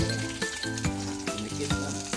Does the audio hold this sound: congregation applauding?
no